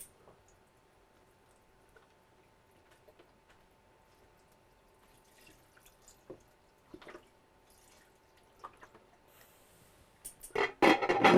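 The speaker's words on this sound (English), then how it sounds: "I'm going to pour some more broth because it's not covering it" Broth pours into a crockpot over smothered pork chops. A quiet stretch of faint drips and small liquid sounds builds to a louder, close splash and pour at the end.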